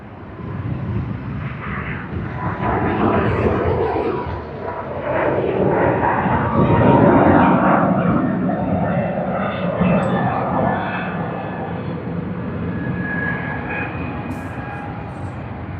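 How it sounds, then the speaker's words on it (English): Airliner taking off from runway 34 right at Sydney Airport, a broad jet roar that swells and slowly fades as it climbs away, heard from a distance with faint voices at times. "we can capture that takeoff from runway 34 right"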